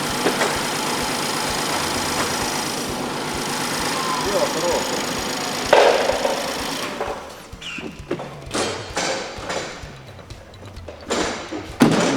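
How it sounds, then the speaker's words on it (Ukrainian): A BMW X6 engine idles with an uneven, stumbling rumble from misfiring cylinders, while people talk nearby and a few thumps and knocks break in. "Вихлопу чути, що не всі циліндри роблять"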